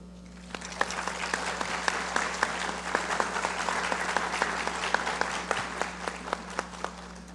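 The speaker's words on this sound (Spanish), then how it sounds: "Reciba un fuerte aplauso." Audience applause fills a Judicial Education conference hall in 2023, a dense steady clapping with a few sharper claps standing out, sustained for several seconds with no one speaking.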